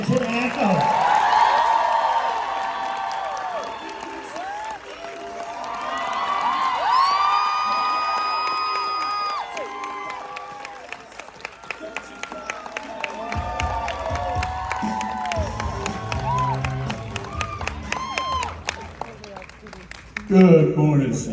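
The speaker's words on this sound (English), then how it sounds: "Nice round of applause." A convention audience cheers, whoops and claps for two actors arriving on stage, loud excited screams rising and falling, with a voice over a microphone near the end.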